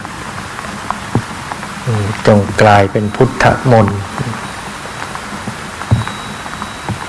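Steady rain patters and hisses throughout while someone speaks over it for a few seconds.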